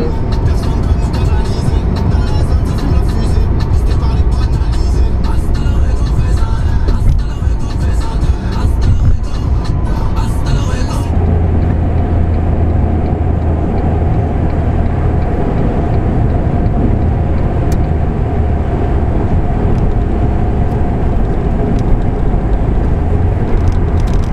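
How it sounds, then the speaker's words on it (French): Mitsubishi car cruising on a French motorway, a steady low road and engine drone with tyre roar that continues throughout, with talk over it. "c'est parti pour 4 heures de pur plaisir au volant de Mitsubishi qui est pas confortable"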